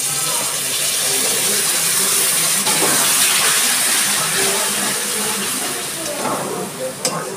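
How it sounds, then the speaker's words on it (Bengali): Water poured into a pan of frying chicken masala with chilli and turmeric, giving a steady, close hiss and sizzle that holds through the whole stretch, with light stirring scrapes near the end. "এবার আমি আর একটু জল দিচ্ছি।"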